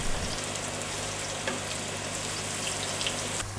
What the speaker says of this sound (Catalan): per a continuació fregir-la.